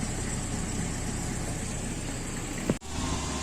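A Toyota Innova petrol engine runs steadily at 2000 rpm, giving an even, continuous mid-pitched hum and hiss with a brief knock or click near the end.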